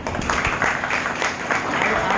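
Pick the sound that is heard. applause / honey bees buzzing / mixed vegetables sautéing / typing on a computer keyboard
applause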